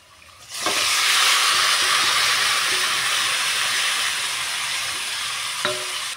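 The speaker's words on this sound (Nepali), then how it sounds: "अब यसमाथि मैले अब अघि काटेको टमाटर हालिदिन्छु।" Chopped tomatoes for a tomato pickle hit a hot pan, bursting into a loud, sudden rush of sizzling that holds steady and close for several seconds with a faint clink near the end; no talking.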